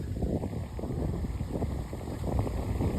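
Wind buffets the microphone in a constant low rumble, gusting unevenly throughout with no voices, beside a lake in Bangkok.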